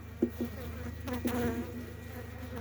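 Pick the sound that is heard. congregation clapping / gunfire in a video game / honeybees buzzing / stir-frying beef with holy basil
honeybees buzzing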